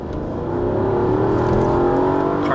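The V8 of a Mercedes-Benz CL500 Sport pulls hard on a highway, a steady, loud engine drone whose pitch climbs smoothly as the car gains speed, heard from inside the cabin.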